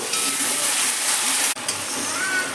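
Masala with tomatoes frying in a pan for a rohu fish curry sizzles loudly when a little water is added, a dense continuous hiss broken by one brief dip before the sizzle resumes.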